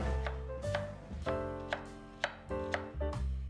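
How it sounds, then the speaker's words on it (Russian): A knife chops apples steadily on a cutting board, about seven crisp strikes in an uneven rhythm, close and fairly quiet, with a low hum underneath. "И яблоки нам нужно произвольно, но не крупно порезать."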